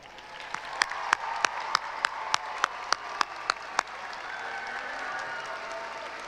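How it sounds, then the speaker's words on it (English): Commencement crowd at a Spring 2021 college graduation applauding the graduating classes, with steady clapping throughout and a run of loud rhythmic claps or beats punctuating the first four seconds before the applause continues evenly. "Let's give them a massive round of applause."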